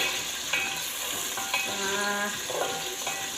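Garlic sizzling steadily in a hot pan as it is stirred, with a continuous crackling fry and a few soft scrapes of a utensil against the pan, close and moderately loud with no talking.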